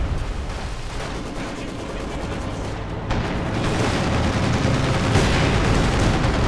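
A strafing run in Company of Heroes 2 sends a dense, continuous burst of gunfire and rumbling impacts that grows louder over the second half, with no talk over it.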